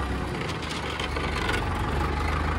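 Indofarm 3055 tractor engine running steadily at a mud-loading site, a continuous low diesel rumble, close and even throughout with no speech.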